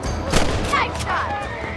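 Gunfire in the Red Dead Redemption video game: a few sharp shots with booming tails in under two seconds, set against continuous game sound and music.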